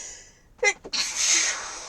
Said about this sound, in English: Sneezes galore there.